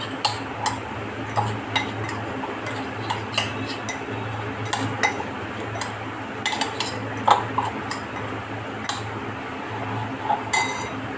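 Chillies being mixed into spice masala for raita marcha, a spoon clinking and scraping against a steel bowl in irregular light taps, close and fairly quiet with no talk.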